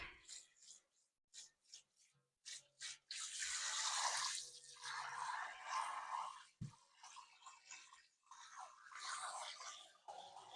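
Warm water runs from a sink tap and rinses a cast iron pan while a hand rubs the surface. Scattered close splashes and scrapes give way to a steady, moderately loud stream of water.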